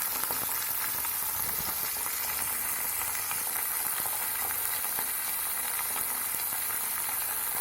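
Chillies, curry leaves, tomato and garlic sautéing in a pan for sundakkai kulambu, giving a continuous, even, close-up sizzle and hiss that runs throughout with no talking.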